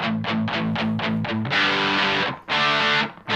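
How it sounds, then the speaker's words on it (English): Electric guitar through a Mad Professor One distortion pedal with gain turned all the way down and a neutral tone, giving a crunchy sound: quick picked chord stabs, then held chords ringing out. "You can hear it's still a pretty crunchy sound."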